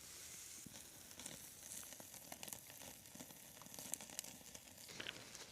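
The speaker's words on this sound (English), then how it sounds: "It's a little sizzle, not a lot." Meat sizzles on a grill over a campfire on a mountain hammock camp in Georgia, a faint, steady crackling hiss with scattered small pops throughout, no voices.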